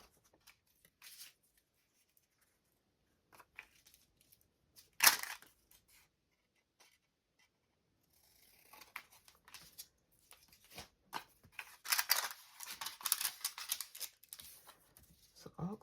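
Scissors snipping through paper scraps for a no-sew grid collage art journal, a few faint isolated snips and a sharp single cut early on, then a longer stretch of quick rustling cuts and paper handling, close by and quiet.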